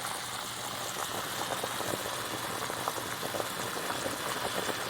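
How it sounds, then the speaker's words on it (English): Potatoes churning in a pot of water at a rolling boil, a steady dense bubbling and gurgling that holds at an even level throughout, close and continuous with no talking. "this has been at a rolling boil now for about 5 minutes"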